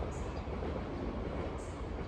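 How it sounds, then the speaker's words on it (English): A train rolls past at a station in a steady, rumbling, mid-distance wash with a couple of faint high squeals over it. "Behind there is the train station,"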